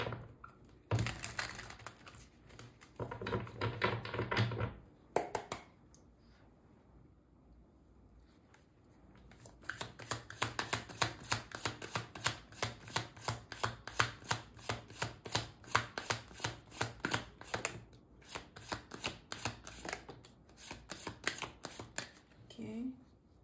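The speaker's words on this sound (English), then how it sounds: "Last shuffle." Tarot cards are shuffled in quick bursts of riffling and tapping, a rapid clicking run followed by sharp taps and a long rhythmic patter, close and fairly quiet.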